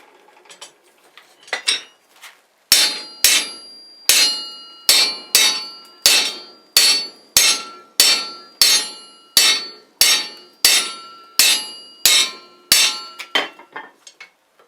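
Sharp metallic hammer strikes on an anvil during forge welding ring out close and loud, roughly one per second in a steady rhythm, each blow followed by a brief ringing decay.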